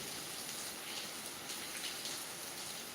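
Heavy rain pours steadily, with water streaming off tin roof sheets in a dense, continuous hiss and patter that stays even and close throughout, with no voices.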